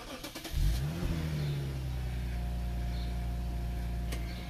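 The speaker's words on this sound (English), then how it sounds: "She's gonna start the car and check to see if she's gonna put the car in reverse to see if they both light up." A Lexus GS 350 engine cranks briefly and catches, then settles into a steady, close idle hum that carries on to the end.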